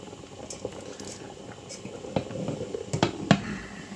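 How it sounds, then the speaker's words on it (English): Spaghetti cooking in a pan of boiling water on a gas stove top, a soft continuous bubbling and simmering with occasional sharper pops and splashes near the end, close and fairly quiet with no talking. "It is starting to cook in our pan of boiling water."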